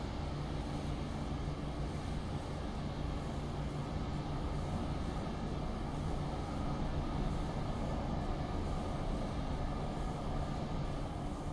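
Train rolling past in the Train Simulator game on the North Jersey Coast Line: a steady, low, dense rumble that holds evenly throughout, with no talking.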